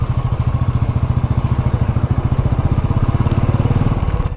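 A motorcycle being ridden on a road trip between Nagaon and Jorhat chugs with a fast, even engine putter, loud and close, holding steady the whole time.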